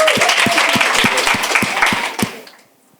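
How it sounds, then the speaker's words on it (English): Big round of audience applause for panelists at a business expo conference, a dense wash of many hands clapping loudly for over two seconds before tapering off quickly. "Let's give them a big round of applause."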